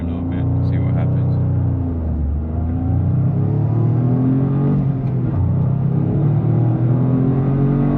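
A 2025 Toyota GR Corolla Premium accelerates on the road, its engine rising in a loud, sustained rumble and whir heard from inside the car, building steadily without a break.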